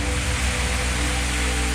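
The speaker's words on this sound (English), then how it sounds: "Crazy amount of rain." Heavy rain pours down during a drive to Wales for mountain scrambling, a dense, loud, continuous hiss of drops drumming on a surface with no voices.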